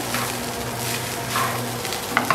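Rice being stirred with salt in a pan, a soft continuous scraping and gentle sizzle with a few light spoon clicks near the end, close and steady.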